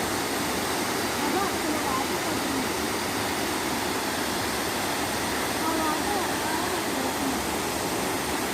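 A continuous, loud roar of rushing water, broad and unbroken, close to Dalasari Waterfall in a forest at Mandasa, Srikakulam.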